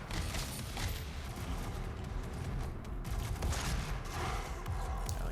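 Demons in DOOM (2016) fire on the player in dense, rapid gunfire and blasts, with mechanical clanks and booms layered throughout at a constant loud level.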